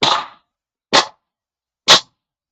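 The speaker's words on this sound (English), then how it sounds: "That noise is Kim splitting wood" Wood being split, three sharp, loud cracking impacts spaced about a second apart, each short with a quick decay into silence, heard alone without talk.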